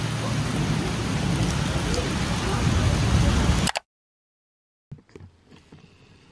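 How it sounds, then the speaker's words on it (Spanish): Heavy rain pours down in Paris as a loud, dense, steady hiss that cuts off abruptly, followed by silence and then a few faint, scattered sounds. "está lloviendo en exceso de la nada"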